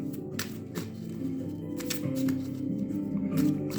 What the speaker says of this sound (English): Good shuffle, and then again.